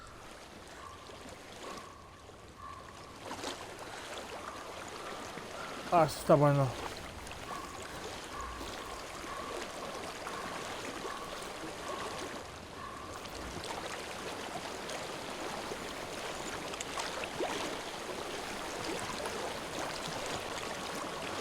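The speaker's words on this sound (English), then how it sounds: "I hear water." Flowing stream water in the video game Hellblade: Senua's Sacrifice, a steady rushing wash that runs through the whole stretch, with someone speaking briefly over it.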